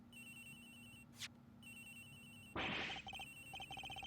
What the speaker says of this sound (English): His phone is ringing from somewhere,